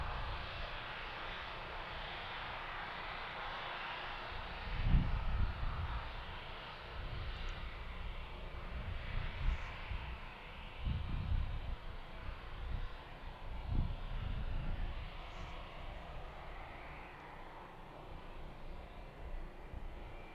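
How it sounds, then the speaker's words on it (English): A steady, distant roar and rumble of aircraft engines at Harrisburg airport, where heavy UPS and FedEx cargo jets taxi toward the runway at night, with slow swells in loudness. "We should have a couple taxiing out to the runway shortly."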